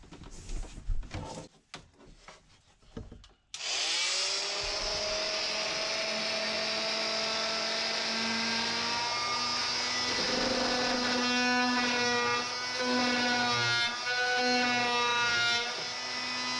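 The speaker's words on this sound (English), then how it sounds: "I got to make another cut down there with my oscillating tool." Oscillating multi-tool cutting wood beneath a travel trailer dinette, a few short knocks and scrapes first, then a loud continuous high buzzing whine that holds for about thirteen seconds with slight changes in pitch.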